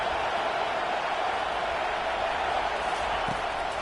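A stadium crowd in a College Football 25 video game, Miami at Florida State, gives off a steady, dense roar of cheering that holds at an even, loud level throughout.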